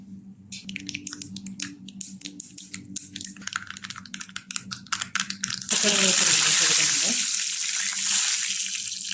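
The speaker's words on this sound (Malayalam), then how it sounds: "ചൂടായ വെളിച്ചെണ്ണയിലേക്ക് ഒരു 3/4 ടീസ്പൂൺ കടുക് ഇട്ട് കൊടുക്കാം" Mustard seeds dropped into hot coconut oil, starting with a run of crackling pops, then a loud steady sputtering hiss that slowly fades, with a voice speaking over the early popping.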